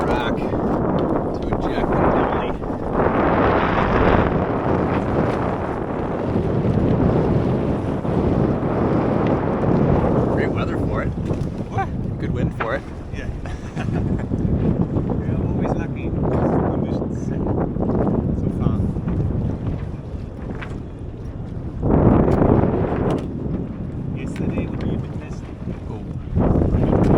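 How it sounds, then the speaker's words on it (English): A sailboat moves through the Doldrums in light wind of about 7 knots, with squalls nearby. Loud, continuous wind buffets the microphone over a rushing water roar, with gusts rising and falling throughout. "7 knots of wind."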